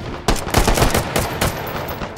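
Rapid bursts of gunfire in the VR shooter H3VR, loud and close, a quick volley of sharp overlapping shots that rattles on for about two seconds.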